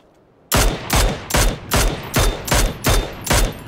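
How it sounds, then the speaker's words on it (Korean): Video game gunfire rings out in a rapid, evenly spaced series of about eight loud, sharp shots after a quiet moment, each burst crisp and close with a short decay. "아하 총소리"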